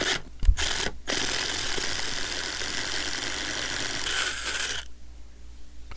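A drill bores a small hole in a bedroom to run a wired connection, grinding steadily and close for about four seconds after a few brief starts, then stopping abruptly into quiet.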